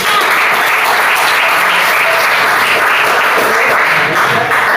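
Loud, dense applause fills the whole stretch as a classroom audience claps for a student group, a steady wash of many hands with no gaps.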